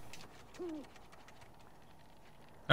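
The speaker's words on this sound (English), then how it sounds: "Ooh, hey, owl." A single owl hoots once, brief and fairly faint, in the video game Never Alone over quiet ambience, followed by a sudden loud burst at the very end.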